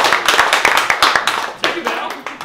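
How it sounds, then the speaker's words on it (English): A short round of applause in a barber shop, a few people clapping quickly and briskly up close, with voices murmuring underneath. "Round of applause."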